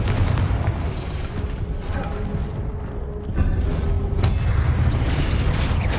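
Explosive Confringo spell cast in Hogwarts Legacy, a loud dense burst of booming blasts over sustained low rumble, close and continuous with no clear speech.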